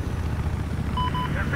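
A helicopter in the Battlefield 4 video game gives off a continuous low, rumbling rotor drone, with brief tonal beeps from the game layered on top.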